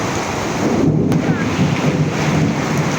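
Heavy rain drums steadily on a tin roof during a thunderstorm, a loud continuous roar with low rumbling thunder rolling underneath.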